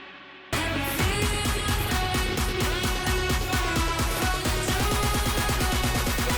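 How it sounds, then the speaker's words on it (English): A riser effect builds inside an electronic dance remix production, sustained and steadily intensifying over dense, driving drum hits and synth layers, loud and continuous after a brief quieter opening. "now let's get a nice riser going."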